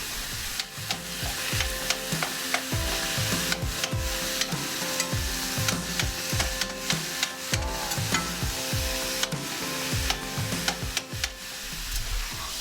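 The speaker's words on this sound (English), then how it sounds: "So I'm going to let mine cook a little bit longer and saute up really good until it gets little bits on it." Ground beef sautés loudly in a pan, with a constant close sizzle broken by frequent sharp scrapes and knocks of a spatula stirring the meat at an irregular rhythm.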